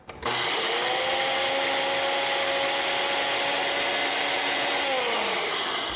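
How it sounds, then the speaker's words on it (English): A blender grinds dried onion slices into powder, running steadily and loudly for several seconds, a continuous whirring grind with a slight pitch drop near the end before it stops. "let's load the blender"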